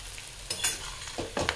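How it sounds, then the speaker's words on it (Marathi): Chapati pieces are tossed into a pan with fried peanuts and garlic, giving a soft sizzle under several sharp scraping stirs and clatters of a utensil against the pan, close and alone with no speech. "आता मी हे चपातीचे जे तुकड्या केलेले आहेत ते टाकणार आहे"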